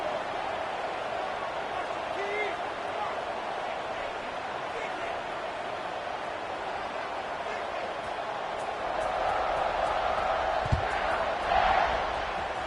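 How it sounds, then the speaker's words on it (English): A Baylor football stadium crowd buzzes after a score, a steady broad murmur that swells slightly toward the end, heard from a distance under an announcer's commentary. "this crowd is buzzing after that last score"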